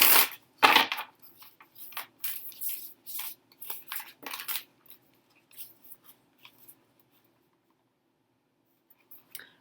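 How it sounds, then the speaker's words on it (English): An oracle card deck is shuffled by hand in a quiet room, a run of soft papery riffles and slaps in the first half that thin out into scattered faint rustles. "Go ahead and give this a good shuffle."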